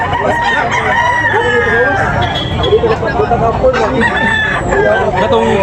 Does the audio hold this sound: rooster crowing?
yes